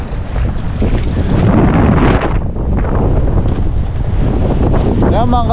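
Strong wind buffets the microphone at a seaside waterway channel, a loud continuous roar with gusting swells, and waves wash in underneath.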